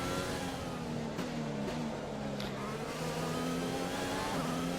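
McLaren F1 car engine at Zandvoort in a racing video game, a steady high-revving whine held close and loud throughout, with pitch rising and dipping through gear changes.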